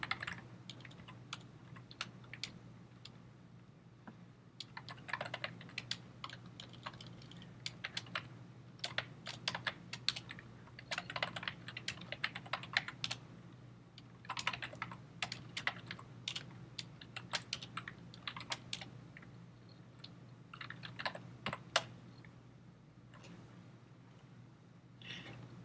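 Typing on a computer keyboard while entering a name during Android code signing, with irregular clicks and short bursts of keystrokes over a faint steady hum, close and fairly quiet, no speech.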